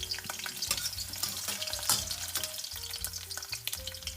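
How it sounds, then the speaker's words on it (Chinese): Dried chilies fry in a wok with scallion and garlic for stir-fried shredded potato, crackling loudly and unevenly up close with frequent clattering stirs and scrapes of the spatula. "干辣椒要和葱蒜一起下锅，葱蒜里边含有水分，干辣椒不容易糊"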